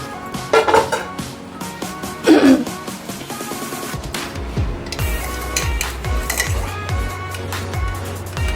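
A metal pan is set down on a stove for gutti vankaya (stuffed brinjal) curry, with a few close clanks and scrapes among kitchen clatter, followed by low rhythmic knocks.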